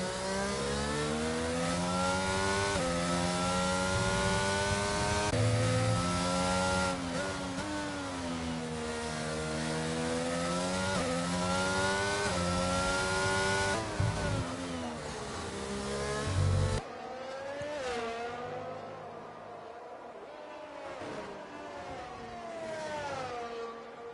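Race car engines rev in a sim racing game at the Hungary circuit, with whining tones that climb and fall between gear changes, loud and continuous before cutting back to a fainter engine drone.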